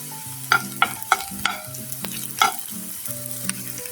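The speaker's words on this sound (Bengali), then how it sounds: "পেঁয়াজগুলি কিন্তু আমি হালকা একটু ভেজে নিব।" Onions lightly frying for a leaf bhorta, a steady close sizzle in hot oil broken by sharp clanks of a spoon stirring against the pan, with no voices.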